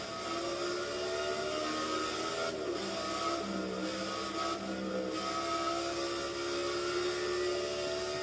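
Race cars roar around Watkins Glen in NASCAR 14 with two laps left in the Cheez-It 355, a steady, loud layered engine drone that holds without a break.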